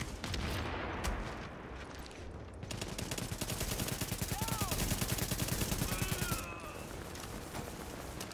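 Sustained gunfire in The Division fills the whole stretch as loud, rapid automatic bursts, with overlapping shots from several weapons and occasional whistling effects on top.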